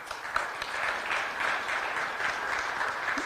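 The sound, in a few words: audience applause for third-place team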